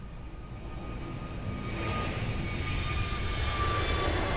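A jet airliner takes off at Lisbon Airport, a distant engine roar that steadily swells in loudness with a faint high whine over a broad rumble.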